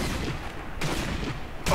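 Enemy gunfire in Sniper Elite V2 sounds as a dense burst of rapid shots that rattles on continuously, with sharper cracks marking each renewed volley, fairly loud and with no talking over it.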